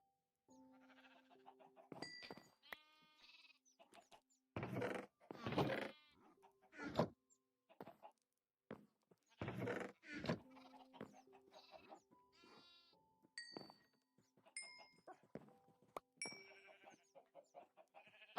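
Baby sheep in the video game Minecraft bleat in repeated short calls, mixed with other farm animal noises and a person talking at intervals.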